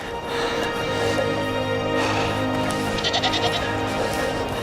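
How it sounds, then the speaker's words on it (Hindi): A herd of goats on a mountain trail in the Karakoram, bleating in a string of wavering, nasal calls that overlap near and slightly farther off, with no voices. "बकरियों का झुंड।"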